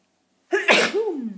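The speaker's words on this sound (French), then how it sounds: "je vais éternuer" A single loud sneeze, sharp inhale then explosive burst trailing into a voiced tail, close to the mic after silence.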